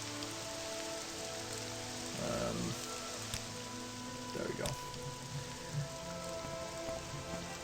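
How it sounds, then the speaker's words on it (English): Steady, fairly loud rain pattering on surfaces in a video game, a continuous wash of droplets with a brief remark spoken over it. "The rain sound in this game can be a little bit loud."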